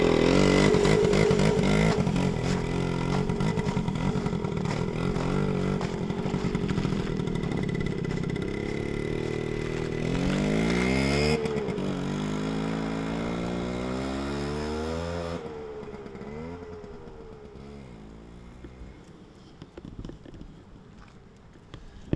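A 1972 Suzuki RV90 two-stroke, oil-injected motorcycle rides along a street, its engine buzzing loud and near, rising and falling through revs and gear changes before easing off toward the end.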